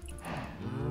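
A Minecraft cow gives one short, low moo, close and fairly loud, lasting under a second.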